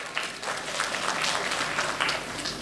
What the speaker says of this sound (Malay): Jadi berikan tepukan pada puan sebentar tadi.